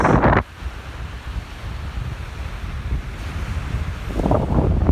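Sea waves washing on the shore near Copenhagen, a broad surging rush mixed with heavy wind buffeting the microphone, swelling louder toward the end with no voices.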